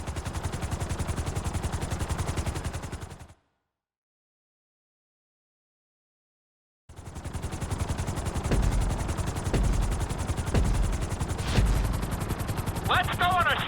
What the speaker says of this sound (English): Let's go on a short tour of the city, and we'll see how well you handle the chopper.